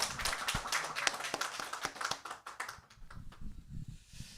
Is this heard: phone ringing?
no